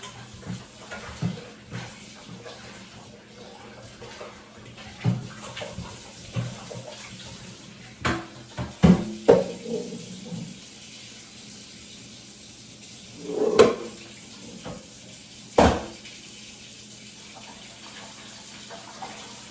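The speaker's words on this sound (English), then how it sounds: "what I'm gonna do is step away, rinse these out real quick, rinse them off, and come back" Raw oxtails are rinsed under running tap water in a kitchen sink, a soft steady stream with intermittent splashes and clunks, louder bursts around the middle and later, no voices.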